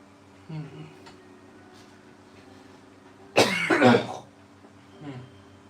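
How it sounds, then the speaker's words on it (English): A single harsh, loud cough, lingering from a recent illness, bursts out close by, with quieter throat sounds and faint background hum before and after. "Still got a little bit of a cough from when I was sick"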